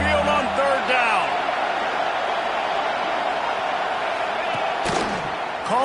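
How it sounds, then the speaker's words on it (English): A stadium crowd in a college football video game roars steadily on third down at Saban Field during an Auburn versus Alabama game, a continuous loud wash of noise with a few brief sharp thuds and whistle-like cries near the start and end. "The Tide crowd rolling noise down onto Saban Field on third down."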